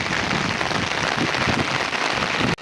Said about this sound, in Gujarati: હજી વરસાદ તો ચાલુ જ છે